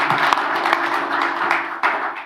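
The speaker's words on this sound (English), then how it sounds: "Big applause." Dense applause from a conference audience, steady clapping filling a short stretch of time at moderate loudness.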